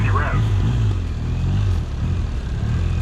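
A police motorcycle idles at low speed during a motor academy exercise, giving a steady low engine throb with no revving, close and continuous.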